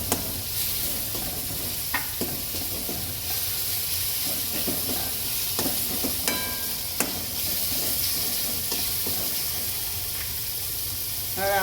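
Garlic and chillies frying in a pan over low heat, a steady soft sizzle with occasional stirring clicks and scrapes throughout.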